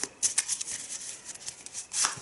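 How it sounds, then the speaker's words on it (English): A deck of cards from the Arkham Horror board game being shuffled by hand, a short series of soft riffling and rubbing bursts, close and fairly quiet, with no talking. "Give it a good shuffle."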